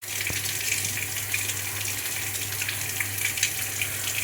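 Tap water runs steadily into a sink while potatoes are washed for pani puri stuffing, a continuous close splashing gush with faint knocks of handling and no talking.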